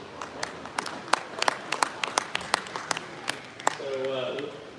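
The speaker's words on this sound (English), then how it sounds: "let's give our Shorthorn exhibitors a big round of applause." A small crowd at a spring Milking Shorthorn cattle show in New York gives a brief scattering of claps for the exhibitors, sparse and uneven, ending as a voice begins speaking.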